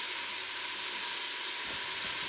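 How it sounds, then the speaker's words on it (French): Seafood browning in a Cookeo electric pot gives off a steady, close sizzling hiss with no break, and a faint knock sounds near the end. "Je les fais revenir un petit moment."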